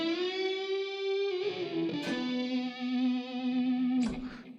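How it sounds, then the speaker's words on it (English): A sustained guitar line through a Hutch Fuzz pedal rings out thick and buzzy, holding a few long notes with slight pitch bends and a brief pluck in the middle before fading. "This actually sounds like the Hutch Fuzz."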